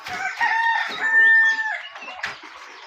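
A chicken nearby lets out one long, strained crowing call, followed by a few softer clucks.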